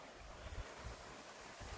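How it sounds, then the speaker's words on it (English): Outdoors at a shooting range on a very windy day, gusty wind buffets the microphone with low rumbling thumps and a constant broadband rush, faint and steady. "It's very windy out here"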